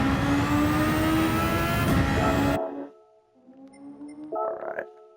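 A Formula 1 car engine in a racing video game revving loud and high, holding a strained whine before cutting off abruptly, then fainter engine tones rising again near the end.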